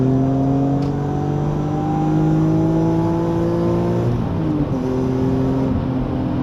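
A BMW E46 M3 engine revs hard and close toward 8,000 rpm, its pitch climbing steadily before dropping briefly with a gear change and climbing again.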